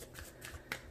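Tarot cards are shuffled by hand in a few soft, quick riffling bursts, close and quiet, with no one speaking.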